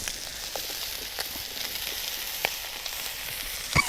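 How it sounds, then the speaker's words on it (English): Chicken and chorizo with peppers and onion fry in a pot on a small twig stove outdoors. A soft, steady sizzle is broken by a few faint pops and crackles. "That's that chicken and chorizo cooking off nicely."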